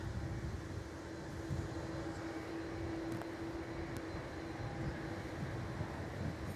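A Virgin Australia airliner departs Melbourne Airport bound for Adelaide, its engines making a steady, distant broadband roar with a low hum that holds evenly throughout, no voices over it.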